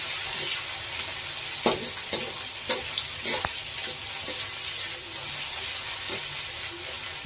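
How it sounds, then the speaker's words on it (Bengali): Boiled bathua greens are stirred and fried in a pan with sliced green chillies, a steady close sizzle punctuated by scattered scraping clinks of a spatula against the pan. "একসঙ্গে নাড়াচাড়া করে আর একটু ভাজা ভাজা করে আমরা সিদ্ধ করা শাকগুলো সঙ্গে দিয়ে দিব"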